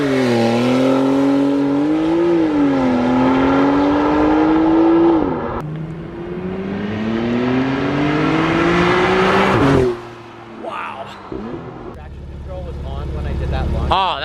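Porsche 911 Carrera GTS revving and accelerating hard, with the engine note climbing steadily through two long pulls, then a shift and another rising run. It sounds close and loud, with voices talking over parts of it.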